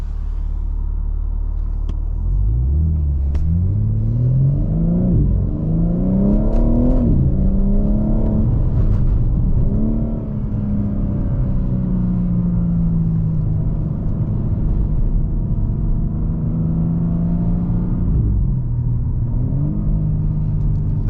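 A 2022 BMW M4 Competition coupe in a virtual driving game, its engine droning and rising through revs with gear changes, a continuous loud rumble throughout.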